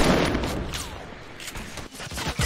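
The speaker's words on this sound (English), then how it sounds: "Keep shooting RPGs." Rapid gunfire and rocket-launcher blasts in a Fortnite battle royale match, a dense burst of overlapping shots and booms that thins out and then flares up again.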